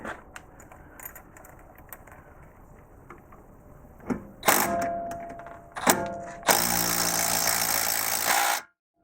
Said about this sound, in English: if you're using an impact to drive it like I am, the impact will be set to loosen or left hand